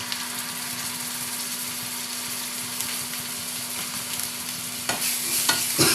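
Masala with ginger garlic paste fries and gets stirred in a pan, a constant close sizzle beneath a steady low hum, with scraping spoon strokes toward the end.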